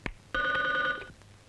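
A telephone bell rings once in a steady, bright burst lasting under a second, then stops, in an indoor scene from a Hindi film.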